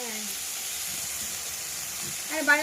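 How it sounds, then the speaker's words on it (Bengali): Bitter gourd frying in a pan gives a steady, even sizzle throughout, with a brief voice breaking in near the end. "উচ্ছে ভাজা বসে দিয়েছো?"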